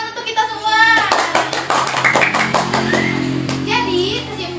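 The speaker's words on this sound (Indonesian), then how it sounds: "Tepuk tangan untuk kita semua" Primary school children in a classroom clapping their hands together, a run of sharp overlapping claps with children's voices chattering over them, close and lively.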